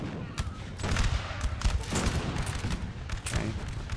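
Musket volleys crackle in Napoleonic: Total War, dense overlapping rifle shots popping near and far in ragged bursts across a battlefield, loud and continuous with no voices.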